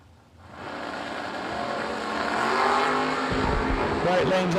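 A Chevy Nova and a Chevy Malibu launch off the line at a drag race, their engines rising into a loud, building roar while an announcer talks over it.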